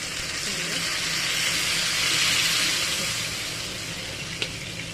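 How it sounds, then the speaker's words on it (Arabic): Vinegar poured over a fried garlic mixture, a loud, broad hissing sizzle that swells and fades over several seconds, with a small clink near the end and no voices. "هنا اتحمرت معايا اهو، هنزل بقى عليها بالخل"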